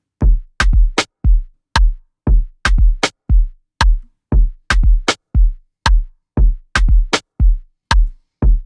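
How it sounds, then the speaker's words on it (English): A punchy drum pattern: deep kick thumps alternating with crisp snare hits in a steady, repeating groove, loud and dry with short gaps. "Now listen to the snares with the kick."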